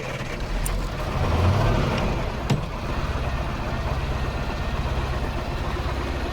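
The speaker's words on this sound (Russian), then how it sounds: "Даем газу и запускаем мотор." A KAZ 4540 truck, back after a long period standing idle, cranks into life with a brief rising rev, then settles into a steady, rumbling idle.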